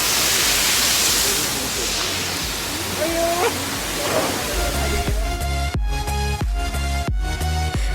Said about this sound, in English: we are at the Chiapara waterfalls on our way to Munnar